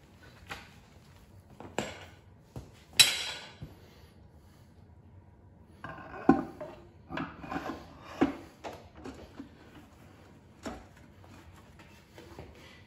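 A heavy torque converter is turned back and forth and pushed onto a Mustang transmission being rebuilt, giving intermittent metallic scrapes, rubs and a few sharp clunks close by with quiet gaps between.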